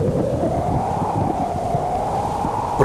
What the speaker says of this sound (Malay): Angin bergelora meniup dengan ganas